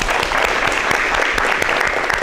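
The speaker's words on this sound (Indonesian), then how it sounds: "kita berikan tepuk tangan ke Mbak Siska" Brisk, dense applause from a classroom of students, many hands clapping rapidly and close, steady for the whole stretch with no talking.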